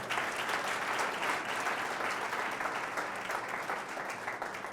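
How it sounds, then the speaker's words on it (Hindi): Church congregation clapping together during a Hindi sermon, a sustained, fairly even wash of many hands heard at moderate distance with no other sounds. "प्रभु के लिए ताली बजाए"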